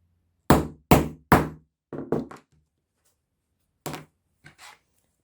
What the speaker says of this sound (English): and then you're going to hit it with a hammer.